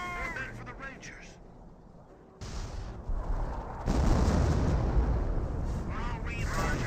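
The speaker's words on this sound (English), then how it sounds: "Grenadiers will avoid the artillery fire." Artillery fire in the Company of Heroes real-time strategy game, with bursts of booming, crackling shell impacts that swell louder partway through and rumble on continuously under occasional speech.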